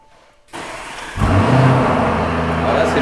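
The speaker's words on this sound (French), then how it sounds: "Alors là, c'est le cold start, je suppose." A Lamborghini Urus fitted with a Milltek exhaust fires up from cold: a brief starter whirr, then a loud, deep engine flare that settles into a steady, rumbling high idle close by.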